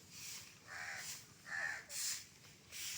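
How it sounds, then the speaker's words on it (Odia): A crow near a front yard in the early morning, giving a series of about five harsh caws in an uneven rhythm, fairly faint and slightly distant, with no speech. "ଏ କାଉ କୁଆଡ଼େ, କାଉକୁ ଖାଇବାକୁ ଦିଅବେ, କାଉକୁ ଖାଇବାକୁ ଦିଅ।"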